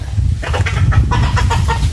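Chickens gather at feed, with repeated clucking and soft bird calls over a dense, close rustle of pecking and movement, steady for the whole moment without talk.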